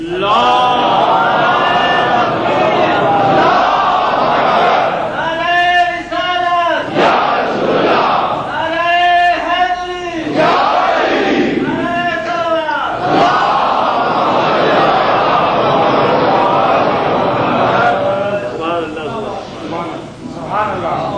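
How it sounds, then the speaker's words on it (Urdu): A crowd at a religious gathering chants slogans in loud, sustained bursts of unison voices that rise and fade several times, with a single voice speaking between them. "اب سلسلے سے نعرے لگا دیجیے جی"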